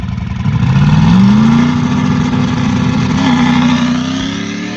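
A turbocharged Saturn car accelerates loudly and close by, its engine note rising as it revs up and then holding a steady drone.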